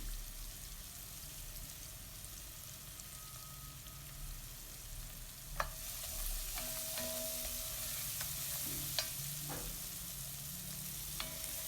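Tomato paste with crumbled dried basil sautéing in a pan, a low steady sizzle with occasional sharp spoon taps and scrapes against the pan, fairly quiet and without talk.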